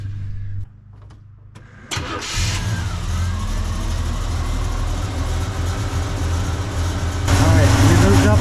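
A 1985 Chevrolet C10 truck engine starts after a brief quiet moment and then settles into a steady, close idle. Its running note lifts slightly near the end during ignition timing adjustment.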